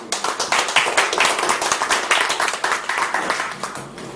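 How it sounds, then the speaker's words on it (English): A crowd claps steadily and enthusiastically at a Toastmasters club meeting, dense rapid hand claps sustained throughout without any talking. "you deserve the applause now. Let's give it up."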